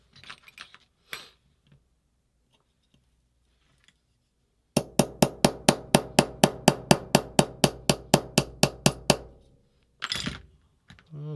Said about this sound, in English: Just needs more whacking.